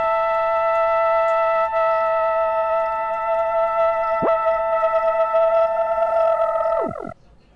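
A held clarinet tone is heavily processed, with warbling distortion and swooping pitch bends near the end before it cuts off.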